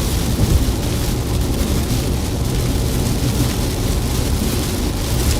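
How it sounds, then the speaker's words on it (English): Rain falls steadily during a windy storm near Eckley, Colorado, a loud unbroken wash of hiss and rumble with buffeting wind mixed in. "getting rain"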